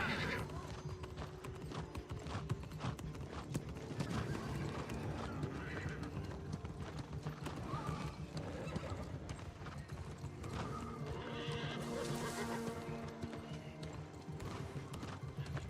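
Clattering hoofbeats of a summoned horse in the video game New World pound in a rapid, continuous rhythm, with a neigh rising partway through amid mechanical game sounds.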